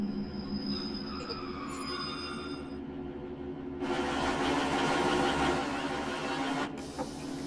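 Two-coach regional train running in a train simulator video game, a steady rumble with squealing wheel tones, growing louder and brighter midway as the rolling noise swells, no talking.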